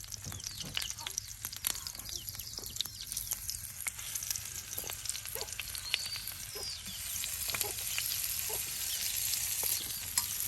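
Mustard-coated fish fries in a pan in a home kitchen, a close, crackling sizzle dense with sharp pops and spits that keeps going the whole time and builds slightly toward the end.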